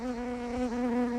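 A bee crawling on a phone camera buzzes very close and loud, a steady droning hum with a slight pitch dip midway.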